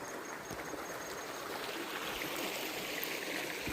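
Rainwater streams down a forest hillside on Palamalai, a steady, moderately faint rush and gurgle of flowing water that continues unbroken, with no talking.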